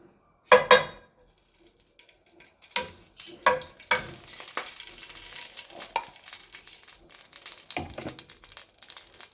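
A sharp sizzle bursts out as cow's ghee hits a hot pan, followed by a steady crackling fry with occasional clinks of a utensil.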